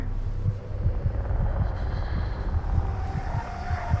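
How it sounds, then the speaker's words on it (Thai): Heartbeat in the video game Among the Sleep: a steady, rapid thumping pulse of about two beats per second, close and prominent over a low ambient hum, with no talking. "น้องหัวใจเต้นแรงมาก"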